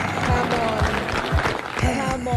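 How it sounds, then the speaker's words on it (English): Audience applause mixed with voices, with clapping and cheering that rise and fall while people talk over it. "A round of applause for this one."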